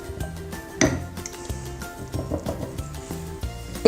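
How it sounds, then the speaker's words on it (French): A silicone spatula stirs sourdough starter in a bowl, giving soft scraping and occasional clinks against the container, close and fairly quiet with one sharper knock near the start. "On mélange bien avec la maryse"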